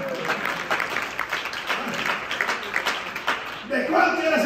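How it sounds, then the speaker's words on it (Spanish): Applause from a congregation during a church service, a dense, steady patter of many hands for several seconds before a voice begins speaking near the end. "Es un aplauso, Señor."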